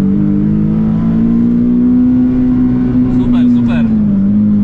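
Nissan 370Z pulling hard through a slalom course, a loud steady engine drone holding near constant pitch for several seconds and dipping slightly at the end, with a voice speaking over it.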